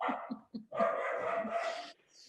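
A puppy barks and yelps in a few short bursts, then lets out a longer drawn-out bark. The sound is fairly quiet and close, with no talking.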